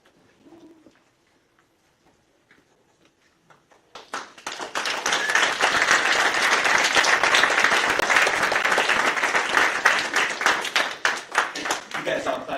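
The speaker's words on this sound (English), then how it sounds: "You guys all clapped too early before I presented the class of 2026" A graduation ceremony audience for a virtual academy's class of 2026 breaks into loud, sustained clapping after a few near-silent seconds, a dense wash of many hands that carries on to the end with a slight taper.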